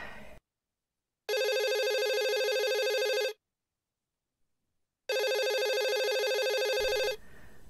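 A telephone rings in two long, loud electronic bursts of about two seconds each, separated by a short silence, with no voices over the rings.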